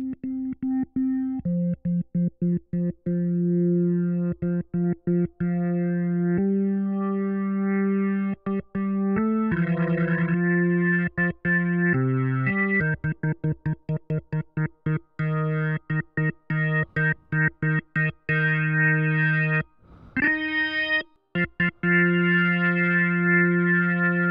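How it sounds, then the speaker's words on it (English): Steady, buzzy analog synthesizer tones hum continuously while layers of pitches are switched in and cut out abruptly, thickening and thinning the drone. "So as I add additional oscillators or frequencies, I'm adding to the sound."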